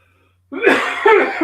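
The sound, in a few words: coughing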